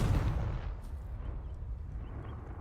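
A Confringo fire-blast spell explodes in the Hogwarts Legacy video game, a loud low boom at the start that decays into a rumbling roar with no voices.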